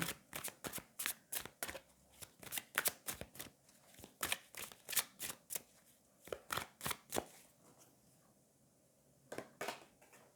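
Tarot cards shuffled by hand close up, a long series of sharp rhythmic riffles and slaps, steady for most of ten seconds with a brief pause near the end, and no voices.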